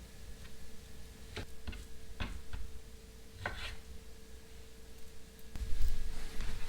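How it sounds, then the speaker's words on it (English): Knife trimming fat from raw beef steak pieces for an Irish beef stew, giving a few faint, scattered ticks and taps of the blade against a cutting board, spaced irregularly over a quiet kitchen background. "I'm going to trim a bit of this fat off, not all of it."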